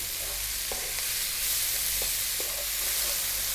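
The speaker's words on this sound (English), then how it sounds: "another 3 minutes, stirring pretty much all the time" Vegetables and herbs such as rosemary, basil, marjoram and tarragon frying in a pan, with a constant soft sizzle and a few scraping strokes of stirring, close and moderately quiet.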